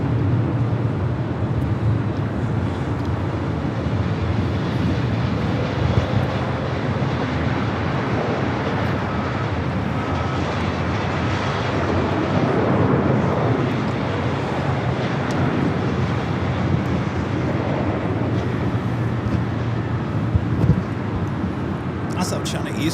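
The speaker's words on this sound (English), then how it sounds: "This flight heading to JFK, flight 939, 29-year-old 767-300ER." A Boeing 767-300ER airliner for flight 939 to JFK taxis at LAX, producing a steady, broad jet engine roar heard from a distance that continues throughout, with a person talking over it.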